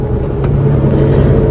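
Inside the cabin of a 2016 Mitsubishi Triton Double Cabin Exceed with a manual gearbox, the diesel engine drones on the move as a constant low, loud hum.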